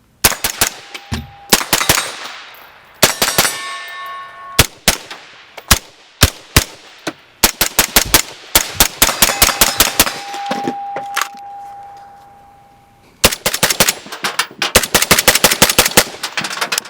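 Rapid strings of suppressed gunshots crack out in bursts, some fast and machine-gun-like, with brief pauses and a faint ringing tone between volleys.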